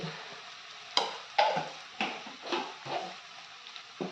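Ginger garlic paste being stir-fried with ridge gourd in a pan for beerakaya curry: a spatula scrapes and stirs in repeated short strokes over a soft, steady sizzle, close and moderately loud, with no talking.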